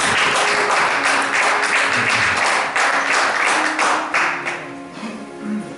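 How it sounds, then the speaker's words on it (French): A congregation at a French-language church service claps together in a pulsing, rhythmic burst, loud and close at first, then thinning and fading over about six seconds. "Applaudissons pour la parole de Dieu."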